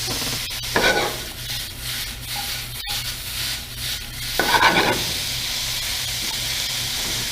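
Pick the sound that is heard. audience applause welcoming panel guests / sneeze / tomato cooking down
tomato cooking down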